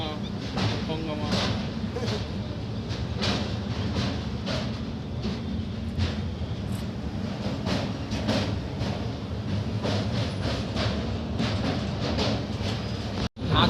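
The 12316 Ananya Express passenger train, heading from Agra Fort toward Kolkata, rumbles steadily along its rails, with a dense low roar and repeated rhythmic wheel clacks heard close from aboard throughout, and a brief dropout near the end.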